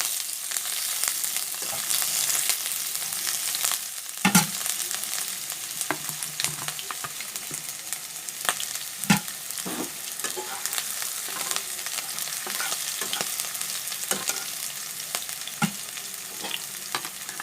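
Chopped ginger frying and being stirred in a pan for a wheat-flour pasta dish, a steady close sizzle with scattered scraping clicks of the spoon against the pan.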